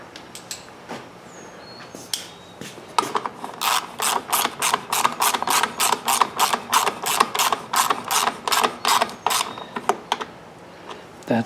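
Fast, close ratchet clicking from a wrench with a 10mm socket driving bolts on a Toro Recycler lawnmower with a Kohler XT675 engine, a long even run of crisp ticks after a few scattered clicks.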